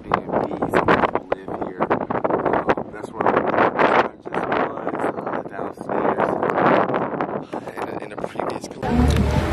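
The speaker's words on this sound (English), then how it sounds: "it's because the wind is blowing crazy" Strong wind buffets the microphone in loud, gusty bursts, with a voice talking beneath the roar throughout.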